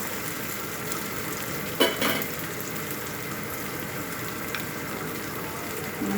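Ground masala frying in a pan for Telangana-style goat head curry, a continuous close sizzle with a sharp burst of spattering near the start and light stirring throughout, no voices.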